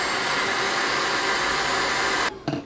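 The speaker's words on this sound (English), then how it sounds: "you take your blow dryer and just blow dry it" A handheld blow dryer runs steadily and loudly at close range on natural hair edges, a continuous broadband whoosh that cuts off near the end, followed by a brief bump of handling.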